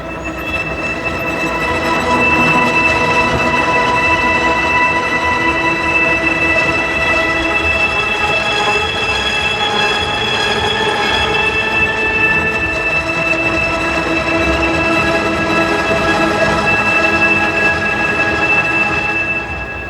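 A dense, sustained synthesized transmission-breakdown sound effect: a synthetic drone with steady tonal lines and grinding noise, continuous and loud for the full length with no pauses.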